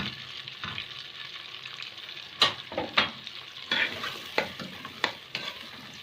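Medium-chopped onions fry in a pan with a soft, steady sizzle, while a spoon scrapes and stirs them in sharp, irregular strokes close by. Nobody speaks.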